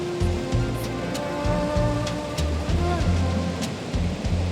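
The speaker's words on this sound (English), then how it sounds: "The waves are crashing pretty hard against the rocks" Ocean waves crash against the rocks at Sunset Cliffs in San Diego, a steady loud roar of surf with low rumbling swells throughout, and a voice speaking over it.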